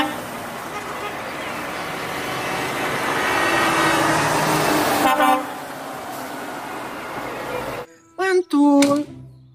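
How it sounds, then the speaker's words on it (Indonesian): A long container truck rumbles past on a road, swelling and then fading, followed by a few sharp, loud horn toots in quick succession. "Wow, ada truk kontainer panjang."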